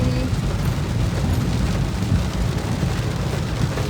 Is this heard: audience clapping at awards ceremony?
no